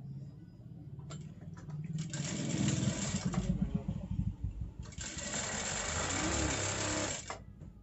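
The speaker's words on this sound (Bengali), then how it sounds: "এভাবে সেলাই করতে হবে।" A sewing machine stitches fabric in two long bursts of quick, steady mechanical whirring and ticking, close by, with a pause between them while a voice talks softly underneath.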